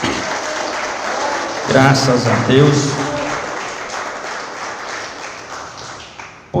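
Church congregation applauding God, a sustained rush of clapping that runs beneath a voice speaking, growing fuller in the middle before easing off.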